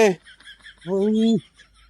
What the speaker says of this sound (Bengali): ছুটিছে দাদু, ছুটিছে মুরগি